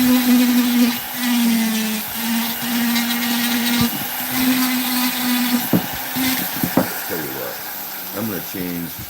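Dremel rotary tool fitted with a flame burr carving wood, a steady high whine running throughout with changes in pitch and brief stops near the end, close and fairly loud, with a voice talking at times.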